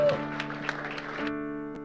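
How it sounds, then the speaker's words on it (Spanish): A church congregation claps briefly and loudly together, the applause mixed with sustained musical tones before fading out. "Dale un fuerte aplauso al Señor."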